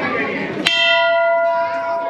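A single clear strike of a metal bell inside Dhari Devi temple rings out and hums on for over a second, following a moment of talk and crowd murmur.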